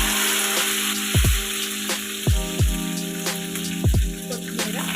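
Curry leaves, mustard seeds and cumin in hot oil, a steady sizzle broken by several deep, falling bubbling pops, close and fairly loud, with no talking.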